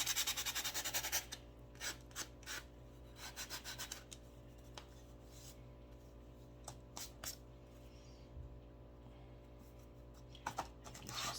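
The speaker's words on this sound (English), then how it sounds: "So we're just gonna rough that up a bit. Sand that piece that we just cut." A freshly cut craft piece is sanded to rough up its surface. A loud burst of rubbing opens, then quieter intermittent scratchy strokes follow over a faint steady background hum, close by and without speech.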